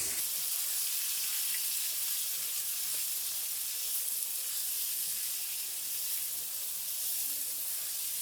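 Beef frying in a pot for korma, a steady soft sizzle and hiss of meat in hot oil, continuous and fairly quiet with faint stirring crackles.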